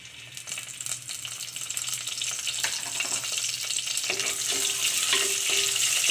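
Curry leaves and fennel seeds, with cinnamon and cardamom, sizzle and crackle in hot oil in a clay pot, a steady frying hiss that grows louder with faint stirring clinks and no talk.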